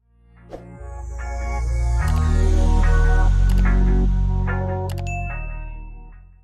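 Notification bell sound effect: a bright, loud run of metallic dings and chimes that rings out and slowly fades.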